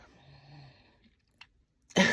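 Heavy breathing: a faint, quiet stretch is followed by a short puff and then one loud, rough exhale right up close at the end.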